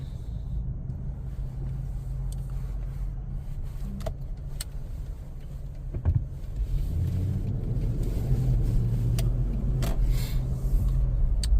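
Toyota Land Cruiser 200 on a test drive, a steady low road rumble and engine hum from inside the cabin with a few faint clicks and rattles, growing a little louder partway through.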